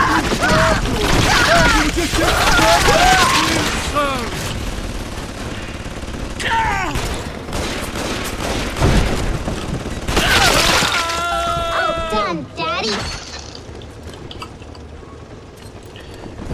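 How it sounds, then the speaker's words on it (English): Gunfire in the video game Bioshock 2, bursts of rapid shots and crashing impacts mixed with shrieking voices and chaotic combat noise, loud and close for most of the stretch before easing off. "Who is shooting at me?"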